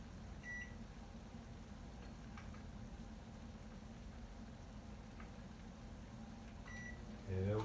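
A microwave oven heats yams with a steady low hum running throughout, close and quiet, with a couple of faint beeps and a louder thump near the end.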